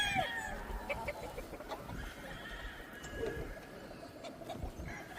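Roosters, stags and other fowl on a farm call and cluck in a busy, distant chorus, with crowing phrases rising over a low background murmur.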